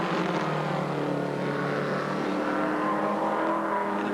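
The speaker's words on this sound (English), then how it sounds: "There's the 25 car coming up along the pit straight." A race car at Bathurst in 1980 runs along the pit straight with a steady, loud engine drone that holds throughout without pause.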